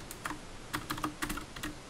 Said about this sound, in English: That's just me touching the arrow keys.